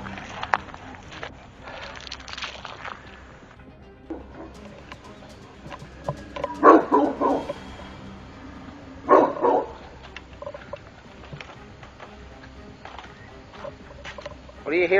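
Great Pyrenees dogs bark in a few loud bursts at night on a homestead, some sharp and close, amid quiet background stillness and faint rustling.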